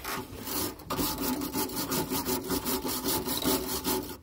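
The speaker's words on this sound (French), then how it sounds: "je vais mettre un coup de brosse métallique" Wire brush scrubbing metal on a vehicle's air suspension, a rapid rhythmic back-and-forth rasping, loud and close, repeating steadily with no talking.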